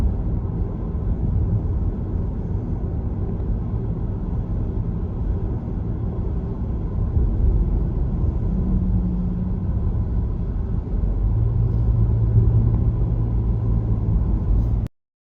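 Continuous road traffic on the outskirts of Fort Lauderdale, Florida, heard as a steady low rumble of cars and engines with some revving, loud and unbroken for the whole stretch with no voices.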